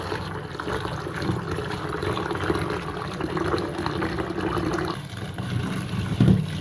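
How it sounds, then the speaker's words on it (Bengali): Chopped potatoes are washed in clean water for samosa filling, with continuous running and sloshing water close by and a few light knocks toward the end. "এখন পরিষ্কার পানি দিয়ে ধুয়ে নিচ্ছি।"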